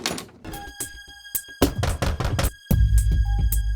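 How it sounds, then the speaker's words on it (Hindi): Someone knocks on a door several times, the sharp raps coming in short bursts over a sustained tonal background. "दरवाजा खटखटाओ, दरवाजा खटखटाओ"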